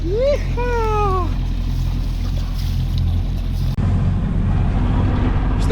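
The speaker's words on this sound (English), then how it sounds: "Still going with the engine." A sailboat's engine runs steadily and loud up close, its low drone constant throughout on a cold, pitch-black outing in very light wind, while a voice calls out briefly at the start.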